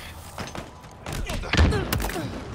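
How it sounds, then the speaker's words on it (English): An explosion in Halo Infinite lands as a sharp booming burst amid rapid gunfire cracks, loud and close, with a voice talking over the combat. "I just killed that dude with an explosion"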